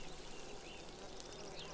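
Watering plants in the farming video game Wylde Flowers gives a soft, faint pouring splash of water, a continuous trickle lasting under two seconds.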